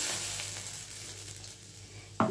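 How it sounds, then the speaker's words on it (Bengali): Bay leaf, dried red chillies, cardamom and cloves temper in hot oil for a Bengali papad dish, giving a soft, steady sizzle with light stirring and a sharper clink near the end. "আর দেব তেজপাতা ফোড়ন"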